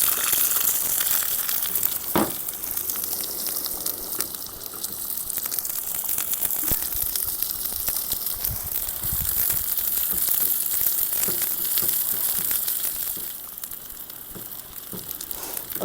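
Mustard seeds frying in hot coconut oil, giving a dense, steady crackle and sizzle with scattered sharp pops, close by and continuous throughout.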